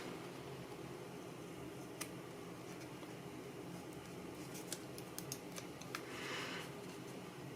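Scissors snipping through a printed thermal label on cardstock, a few faint, sparse cuts over a quiet room hum.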